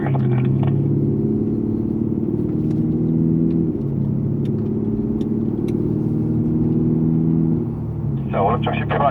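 A Lexus GS F on the Yongin Speedway track gives a steady, loud engine drone that shifts pitch once midway as it gathers speed, with someone talking over it throughout.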